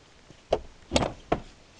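A door bumps and rattles in a Swedish home in the morning: three short, separate knocks spaced about half a second apart, fairly close, with no talk.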